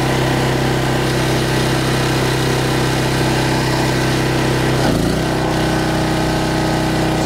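A Westinghouse WGen3600DF dual fuel generator runs steadily under an air conditioner load, a loud, constant engine drone that briefly dips and stumbles as the compressor kicks on near the end before settling back.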